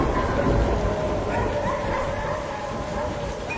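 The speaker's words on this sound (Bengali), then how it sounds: "হঠাৎ কোথা থেকে কতগুলো কুকুর আমাদের চারপাশে ডাকতে লাগলো।" Several dogs bark and whine in an audio drama scene, their cries rising and falling over a steady wash of heavy rain.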